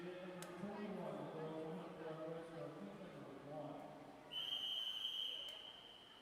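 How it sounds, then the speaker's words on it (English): A referee's starting whistle at a girls' breaststroke swimming race, a single long shrill tone sounding clearly after a few seconds of faint arena chatter and announcer talk. "First whistle."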